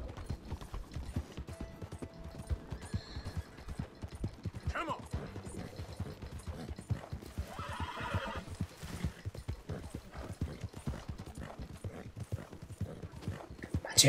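A horse in the Western video game Red Dead Redemption II clip-clops in a steady rhythm and neighs loudly around the middle, with occasional mechanical clicks and a voice talking.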